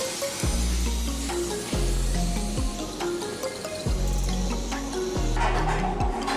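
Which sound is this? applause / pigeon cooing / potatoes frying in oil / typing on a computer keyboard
potatoes frying in oil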